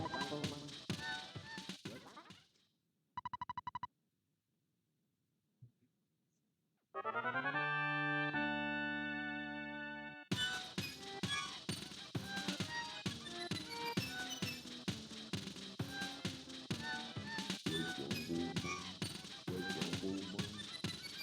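Mad Duck enemies from the Earthbound video game honk as a short, tonal burst of game sound effects, between stretches of chiptune-style music and quiet gaps.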